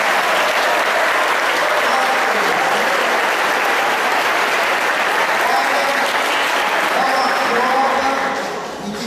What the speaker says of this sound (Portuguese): Que você dê uma salva de palmas para o irmão que está ligado.